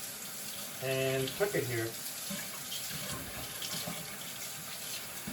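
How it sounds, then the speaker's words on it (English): Tap water runs steadily into a kitchen sink while organic spring garlic is rinsed under it, a continuous hiss and splatter with a short burst of speech over it early on. "So I'm just going to rinse it off here in the sink."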